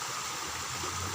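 Stream water flows in a steady, close rushing wash, with no voices over it.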